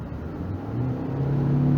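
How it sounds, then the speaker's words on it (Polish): A 2022 Škoda Kodiaq 1.5 TSI ACT 150 hp with a DSG7 gearbox accelerates to overtake from 80 km/h, heard from inside the cabin. Steady engine and road rumble rises in pitch as the revs climb, with no talk. "Jedziemy 80 km na godzinę, e, jedzie przed nami samochód i jest potrzeba, żeby go wyprzedzić, więc musimy ten, ten manewr wykonać szybko. Ja wciskam gaz."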